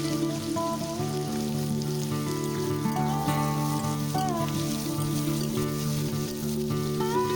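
Chopped onions, about 200 grams, sizzle steadily in hot oil tempered with whole cloves, a continuous close frying hiss with tonal background music over it.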